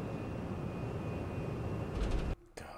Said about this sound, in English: God, private jet. That's nuts.